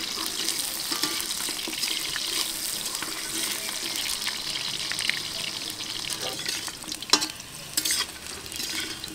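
Potatoes frying in mustard oil without salt or turmeric, a bright steady sizzle with stirring scrapes and a few sharper knocks toward the end, close and continuous.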